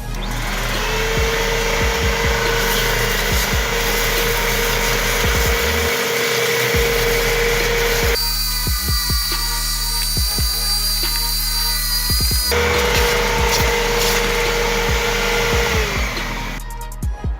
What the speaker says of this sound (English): We're just gonna use the regular household vacuum to pick up all the loose dirt, sand, leaves